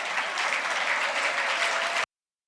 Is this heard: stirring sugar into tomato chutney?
no